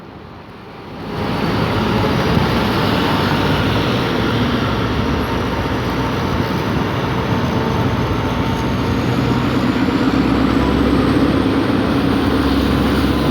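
Two diesel railcars, numbers 4205 and 4111, pull away from Sam Sen station in Thailand with a steady, broad engine rumble and rolling rail noise that swells in quickly and holds close and loud throughout.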